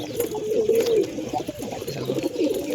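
Pigeons coo nearby in a steady, overlapping run of low, throaty calls that carry through the whole stretch, with no voices over them.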